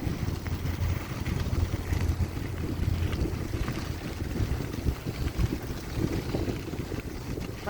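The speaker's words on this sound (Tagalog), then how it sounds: "Mahangin na, may kasamang hangin." Strong, steady wind blowing outdoors on a very cold autumn day beside a cemetery, a loud continuous rush buffeting the microphone with no letup.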